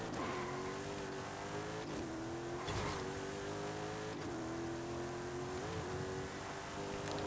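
A high-performance car in Forza Horizon 5 runs at full throttle without a body kit, the engine roaring loud and steady as it climbs through several gears, with a brief pitch drop at each shift.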